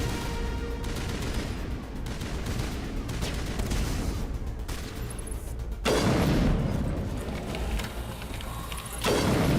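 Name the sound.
gunfire in the video game Mass Effect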